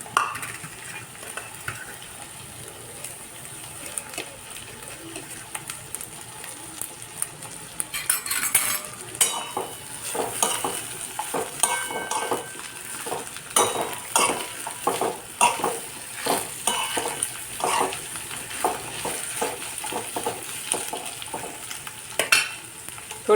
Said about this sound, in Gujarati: થોડીક વાર બટેટાને સાતળી અને પછી ટીંડોરા નાખી દઈશું.